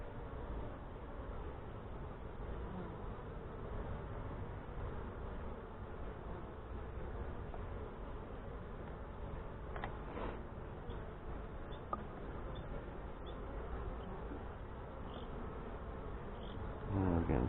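Honey bees from a hive headed by a Saskatraz queen, opened for a fall inspection in northwest Wisconsin, give off a continuous soft buzzing hum, quiet and even throughout, with a few brief louder passes near the end.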